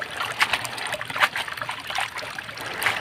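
Running water splashes and trickles over red amaranth greens as they are rinsed by hand, close and continuous with irregular splashy bursts.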